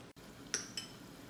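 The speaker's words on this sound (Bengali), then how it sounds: "এখন আমি ঢাকনাটা তুললাম।" A metal lid lifted off a cooking pan of chitol fish kofta curry, giving a bright clink followed by a second lighter metallic tap, close and clear over a quiet kitchen background.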